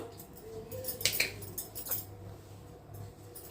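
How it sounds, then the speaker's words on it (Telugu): A utensil clinks and scrapes against a bowl while pongnalu batter is stirred, with a few close, sharp metallic taps among soft squishy mixing noises. "పిండి అంతా మంచిగా అయితే కలుపుకుందాము"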